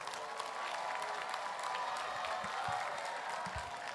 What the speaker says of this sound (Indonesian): Tepuk tangan untuk Gen Z.